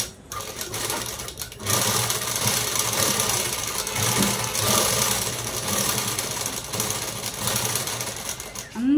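Sewing machine stitching piping onto a jacket, running in a steady close mechanical whir with brief pauses and restarts, loud and alone.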